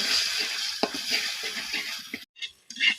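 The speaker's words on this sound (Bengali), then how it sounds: "এবার আমি ডিমটা কিছুক্ষণ ভেজে নিব" A farm egg frying in a pan with a steady close sizzle and light stirring scrapes, cutting off abruptly near the end before a brief final burst.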